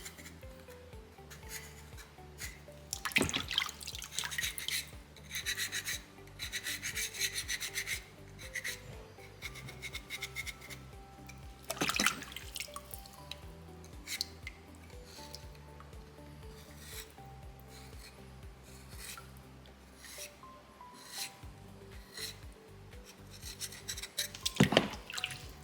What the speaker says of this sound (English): Now I'm just kind of smoothing that out, trying to make sure I'm not leaving any super deep tooling marks right now.